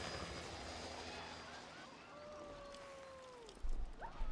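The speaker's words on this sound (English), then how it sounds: "I'm going to use my helicopter drop." A helicopter drop in the video game Riders Republic: a sustained aircraft engine drone with a gliding whine that bends downward, ending in a louder rush of low rumble, heard without talk.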